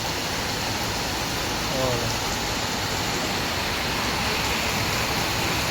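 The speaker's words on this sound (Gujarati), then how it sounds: "અત્યારે જોવા વરસાદ પડે છે ધોમ ધોકાર, કાંઈ ઘટે નહીં એવો આપણે વરસાદ પડે" Heavy rain pours down outside a roadside hotel in a severe storm, a dense, constant roar of broadband noise filling the whole stretch with little variation.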